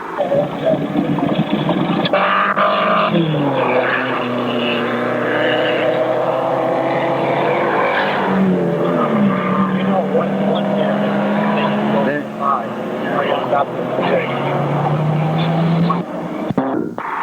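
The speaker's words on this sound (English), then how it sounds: "The race is over, and John Wolfe of Colorado Springs, driving number 17, a Porsche, is the winner." Race cars at the 1960 Lake Garnett Grand Prix roar past, their engines rising and falling in long whining passes, loud and near. A steady drone runs under the passes, and an announcer talks over much of it.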